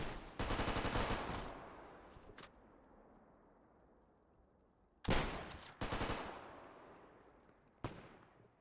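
Rapid automatic gunfire from soldiers in a video game, loud sustained bursts separated by fading echoes and short quieter pauses, with a final isolated shot.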